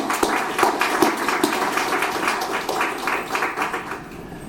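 An audience at a community and environmental conference gives a round of applause, with scattered, distinct claps that thin out and fade toward the end, heard without talk.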